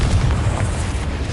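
Explosive spell blasts from Bombarda and Confringo in the Hogwarts Legacy video game produce dense, rumbling booms and bursts that run together in a loud, continuous roar.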